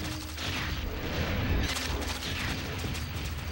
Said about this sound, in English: Let's shoot what I'm trying to shoot.